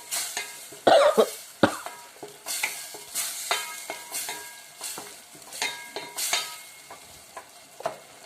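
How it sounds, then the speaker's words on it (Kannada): Yogurt masala being stirred and fried in hot oil for egg biryani, with close, scraping spoon strokes over a steady sizzle and a few sharp knocks against the pan. "ಮೊಸರು ನೀಟಾಗಿ ಎಣ್ಣೆಯಲ್ಲಿ ಮಿಂಗಲ್ಲಾಗಿ ಅದು ಚೆನ್ನಾಗಿ ಎಣ್ಣೆ ಬರಬೇಕು ಆಗ ಚೆನ್ನಾಗಿ ಫ್ರೈ ಆಗುತ್ತೆ"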